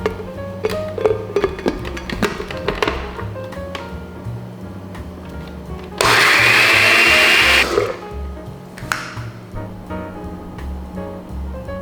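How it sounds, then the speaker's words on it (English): A kitchen blender whirs through pieces of uni and heavy cream for a pasta sauce in one loud burst of about two seconds, between quieter clinks and handling noises. "Now we're going to be blending about 5 pieces of uni with 1 cup of heavy cream"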